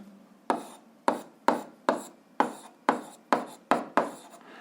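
Pen or marker writing a point's coordinates during an 8th-grade algebra exercise, heard as about eight short scraping strokes at a steady rhythm, close and clear with no talk.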